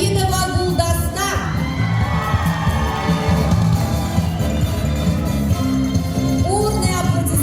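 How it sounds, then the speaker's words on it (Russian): Loud crowd at an event hall cheering, whooping and shouting alongside applause, continuous and energetic throughout, with excited voices rising over the din. "Бурные аплодисменты."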